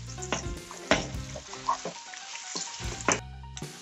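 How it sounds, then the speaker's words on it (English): Chopped onion and garlic sizzle in olive oil and butter in a pan, with a soft crackle under several sharp utensil knocks and scrapes, and no voice. "So my onion, chopped onion and garlic is browning, and with some olive oil and butter in there"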